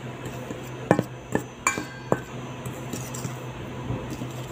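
Baking powder and flour being mixed in a bowl for a banana cake: a few sharp clinks of utensil against the bowl, spaced irregularly over a quiet background hum, with no talk.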